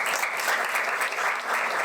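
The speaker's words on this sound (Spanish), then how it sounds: "Un fuerte aplauso, por favor." Audience applause at a magazine launch event, dense and steady clapping from a full room, loud and continuous throughout.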